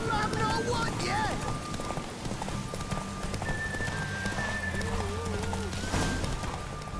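Hooves clip-clop rapidly as a horse gallops in a race in The Witcher 3, a continuous pounding rhythm under game music and background noise, with voices talking over it.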